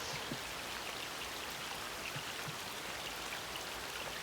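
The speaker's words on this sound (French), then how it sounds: "vu qu'il pleut, on est pogné dans la grotte" Steady rain falls outside a cave, a constant dense hiss of drops with scattered soft patters, even in level throughout and with no voices.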